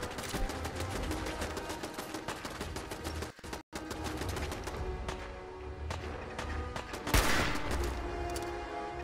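Gunfire in the video game Fallout 4: rapid, evenly spaced automatic shots in a long burst, a brief pause as if reloading, then firing resumes, moderately loud and close.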